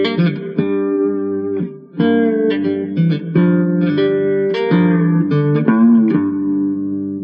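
Fretless three-string cigar box guitar played fingerstyle in a swampy twelve-bar blues, plucked notes and chords ringing continuously with slides between them, close and loud with no voices.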